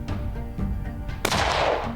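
A single sharp, loud rifle shot rings out while hunting caribou in Newfoundland, cutting through steady low background rumble and decaying over a second.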